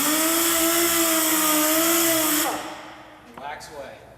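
A rotary polishing pad buffs wax onto a fire engine with a loud, steady electric whine that runs for a couple of seconds, then spins down and stops, followed by faint handling sounds.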